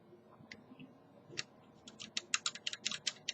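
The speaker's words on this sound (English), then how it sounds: "You hear that click, and we're at 5 o'clock." An Era Fortress lever lock is being picked with light tension, producing a run of small, sharp metallic clicks that start sparse and become rapid and louder toward the end, with no voices.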